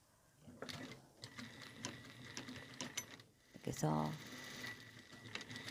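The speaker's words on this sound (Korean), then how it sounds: "속지를 박음질 해줍니다." A sewing machine stitches the inner lining fabric of a sewn piece, its stitching bursts rapid and mechanical with a short loud run near the end, under someone talking throughout.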